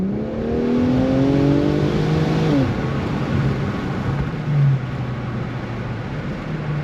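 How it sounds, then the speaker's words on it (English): A turbocharged car engine revs into the high RPM range, a loud sustained climbing whine as the turbo spools, then eases back and holds a steady drone with a brief bump near the end. "when you get in that higher RPM range, you get more of that turbo kicking in."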